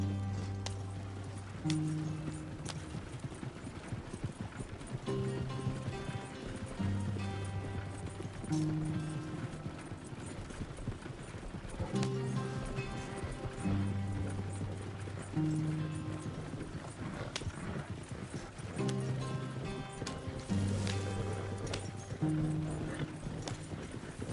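Rhythmic horse hooves clip-clop at a steady gallop in Red Dead Redemption, loud and close over a continuous game music bed, with an occasional whinny.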